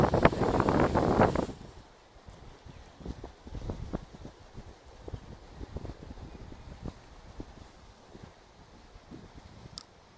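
Wind buffeting a microphone outdoors during bank fishing, a loud gusty roar for the first second or so, then softer intermittent gusts and rustling for the rest.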